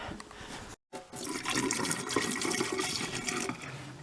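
Liquid poured down a drain flushes out the remaining water, making a steady rushing, gurgling flow after a brief cutout, fairly close and uninterrupted by talk.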